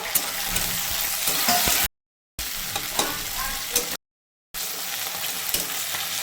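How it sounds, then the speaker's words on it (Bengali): Sliced onions frying in oil in a pan, giving a steady bright sizzle that is interrupted twice by short gaps of silence. Occasional stirring clicks can be heard, and no one speaks. "পেঁয়াজটা কেটে এই এরকম কম করে ভাজতে হবে"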